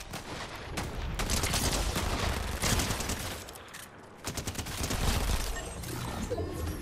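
Gunfire in a battle royale style video game rattles in rapid bursts and volleys, fairly loud and continuous with short lulls, and no voices over it.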